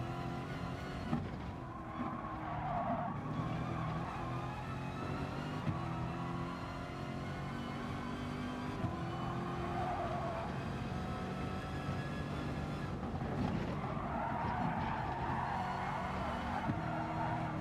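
Corvette race car in Gran Turismo Sport on the Nürburgring Nordschleife, a steady droning engine note held at high revs with gear changes and brief throttle lifts, continuous and fairly loud, with a voice talking faintly underneath.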